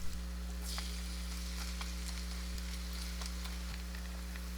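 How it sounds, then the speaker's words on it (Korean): A spinach and Spam pancake fries in an oiled hot pan, giving a continuous dense sizzle with a low steady hum underneath and occasional faint crackles. "달군 후라이팬에 기름 두르고 앞뒤 노릇하게 부쳐냅니다."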